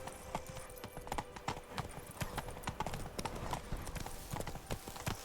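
Horse hooves clip-clop at a steady trot in The Witcher 3 video game, with close, rhythmic hoofbeats that keep up throughout.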